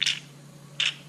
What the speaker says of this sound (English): That's the sound of a squonk mod going empty.